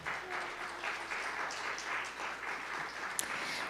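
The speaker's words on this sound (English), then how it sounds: "One more round of applause for our wonderful speakers" A theater audience applauds the speakers after an opera conversation event, a moderate, steady patter of clapping from a modest crowd heard at some distance, lasting several seconds.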